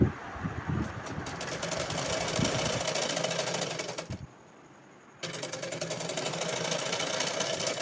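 A sewing machine stitches piping onto a blouse sleeve with a close, fast, rhythmic needle chatter over a motor hum. It pauses for about a second midway, then resumes at the same steady pace.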